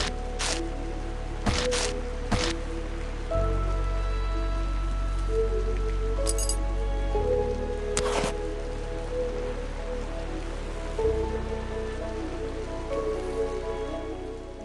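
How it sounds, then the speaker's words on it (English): Steady rain falls on a muddy gray afternoon in a game trailer scene, a continuous wash of drops on surfaces with a few brief louder splashes and shifts in intensity, with no voices. "she cannot leave him in the rain"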